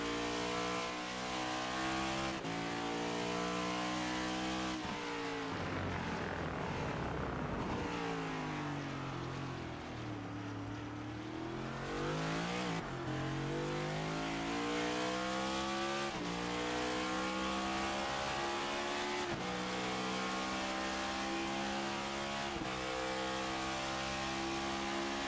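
NASCAR race cars lap Circuit of the Americas in iRacing, with a loud, continuous engine drone that rises and falls through repeated gear changes, dipping into a long deceleration and climbing back to high revs, with no talk.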